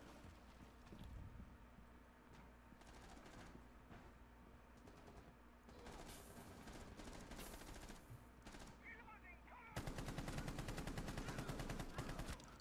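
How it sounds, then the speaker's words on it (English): Gunfire in Rainbow Six Siege, with rapid automatic bursts and scattered single shots repeating through the match, ending in a long continuous volley, with faint game ambience between bursts. "Missed a couple more bullets than I wanted to."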